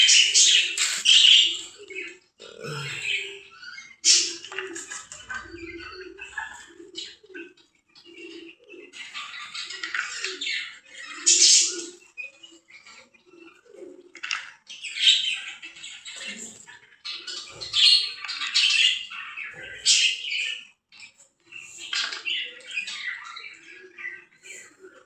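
Pet budgerigars and cockatiels chirp and squawk continuously nearby, a busy flock of overlapping tweets and sharp calls with no talking.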